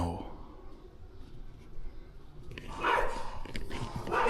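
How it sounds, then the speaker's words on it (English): A dog yelps and barks in short, sharp bursts near the end, somewhat distant over a low background hum, with people talking nearby. "Is there no one below can put an end to that cur's infernal yelping?"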